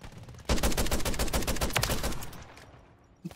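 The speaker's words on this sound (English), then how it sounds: "He was shooting at the sky." Rapid automatic gunfire from a shooter video game, with a shotgun kit in use, rattles out as one loud, dense burst that tails off after a couple of seconds, followed by a single later shot.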